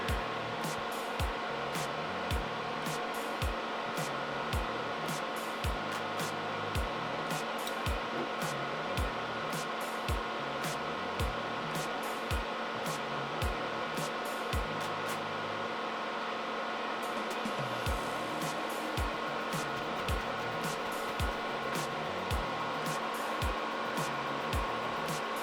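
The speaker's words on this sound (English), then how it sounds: "fire up the fume extractor, and let's get these" Fume extractor fan whirring steadily at close range while controller leads are desoldered, a constant airy drone broken by frequent small clicks and taps from the work throughout.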